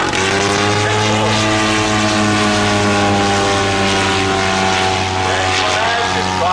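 A World War 1 fighter plane's engine runs at Rhinebeck, New York, a loud, steady, close propeller drone with strong harmonic tones held throughout.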